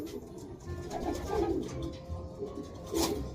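Pigeon cooing, a young bird bred from a Javier Clacker pair, with soft repeated low coos close by, the clearest one near the end, over faint background noise.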